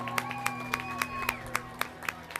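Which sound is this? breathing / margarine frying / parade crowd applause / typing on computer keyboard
parade crowd applause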